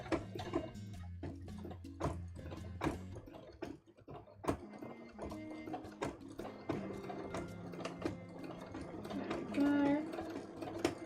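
A sewing machine runs in bursts of rapid mechanical stitching with clicks and pauses, working through embroidery up close and fairly quiet, with no voices over it.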